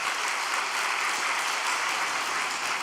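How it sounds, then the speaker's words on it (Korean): A church gathering audience claps for a family in a dense, steady round of applause that stays at an even, full level from start to finish, with no clear speech over it. "이 가정을 위해서 박수 한 번만 보내주시기 바랍니다"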